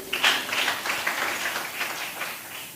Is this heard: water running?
no